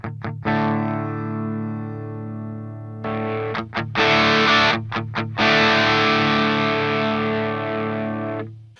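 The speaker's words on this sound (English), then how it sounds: "I'll start with the pedal off, and then I'll go ahead and click it on so you can hear the difference" An electric guitar through an overdrive pedal plays a sustained chord that rings out, then a series of strummed and picked chords with a driven, gritty overdrive tone; no voices.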